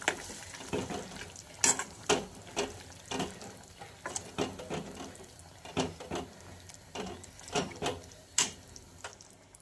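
Kurma curry gets stirred and mixed in a frying pan, with a spoon scraping and clacking against the metal in a steady, irregular rhythm of soft repeated strokes under faint background noise.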